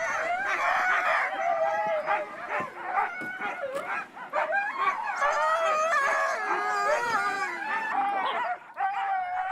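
Inuit sled dogs in the Arctic howl together in long, wavering, overlapping chorus lines, punctuated by yips, whimpers and a few barks, close and loud throughout.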